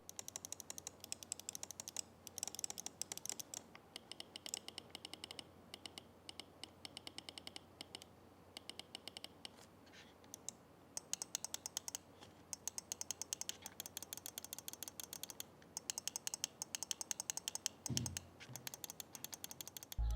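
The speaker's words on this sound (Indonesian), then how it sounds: "Pichel coba contohin suara dari switch yang ada di Razer DeadAder Essential" Rapid, quiet clicks from the switches of a Razer DeathAdder Essential gaming mouse come in dense, steady bursts, light and crisp with no talking.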